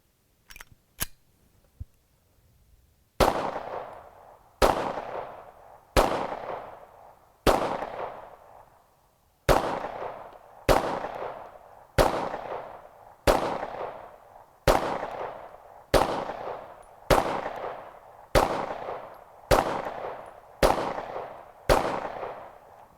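Gunshots from a Hudson H9 pistol fired at a shooting range ring out as a string of loud, sharp cracks spaced about a second apart, each trailing off quickly, after a couple of earlier isolated shots.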